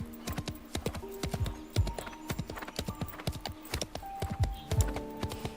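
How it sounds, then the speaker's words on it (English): Horse hooves clip-clop in a steady trotting rhythm during a ride in the video game Where Stars Scatter, up close and loud, with sustained tonal game music beneath them. "This reminds me of my horse riding days hearing these sort of sounds."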